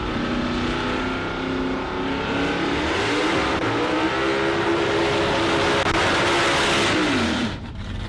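A drag racing car at Warwick Dragway revs hard and steadily near the start line, a loud sustained engine roar with rising and falling pitch sweeps before cutting off abruptly near the end, no voices.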